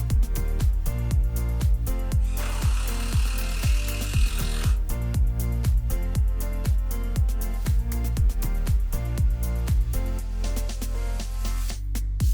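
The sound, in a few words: drilling and driving screws into wooden shelf legs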